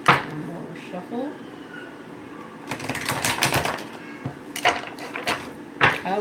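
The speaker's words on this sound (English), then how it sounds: "One more shuffle." Tarot cards being shuffled in quick papery bursts, a longer riffle in the middle and shorter flicks after, with a faint voice near the start.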